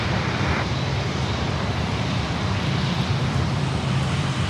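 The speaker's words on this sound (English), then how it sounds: "next inbound we have the Dreamy coming in, the Dreamliner from Los Angeles, California, 787-8" A Boeing 787-8 Dreamliner arriving from Los Angeles gives a steady, moderate broadband engine roar with no voices, the noise holding even across the short stretch.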